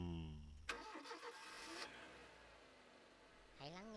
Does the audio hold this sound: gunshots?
no